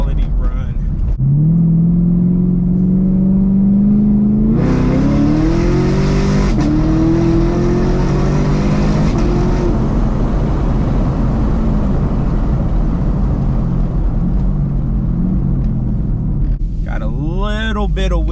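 Supercharged Chevrolet Camaro SS engine pulling at wide open throttle, a loud rising drone that climbs in pitch through a gear change and then fades, heard from inside the car with a voice briefly at the end.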